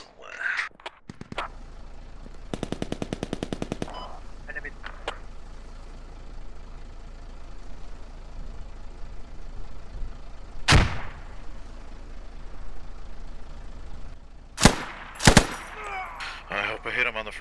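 A .50 caliber machine gun fires in a military video game of urban combat: one sharp burst of rapid shots, then scattered single loud shots and game noise, with a player speaking over it.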